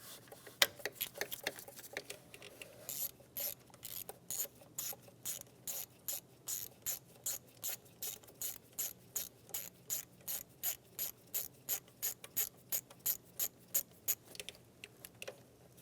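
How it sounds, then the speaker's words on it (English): Rapid clicking of a ratchet wrench with a 10mm socket loosening a bolt on a 2013-2017 Honda Accord camshaft position sensor, a long steady run of sharp close ticks with no talk. "Using a 10mm socket, remove the bolt."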